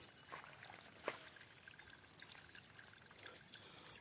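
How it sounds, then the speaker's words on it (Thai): Water flows steadily into a nearly full pond after heavy rain, a soft, continuous pouring hiss heard faintly from a distance, with a high faint chirp recurring in the background. "เสียงน้ำไหล"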